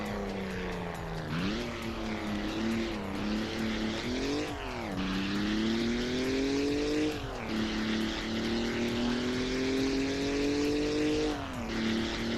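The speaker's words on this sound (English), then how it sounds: "The engine doesn't sound as smooth as I would expect for a radial" A droning, propeller-like engine note rising and falling as gears shift, loud and continuous and less smooth than expected, from a radial-engined car in BeamNG.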